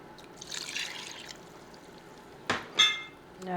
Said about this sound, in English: we're adding 3 cups of milk,